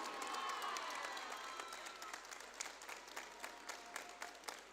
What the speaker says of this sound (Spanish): De vuelta el aplauso y ¡que viva Argentina!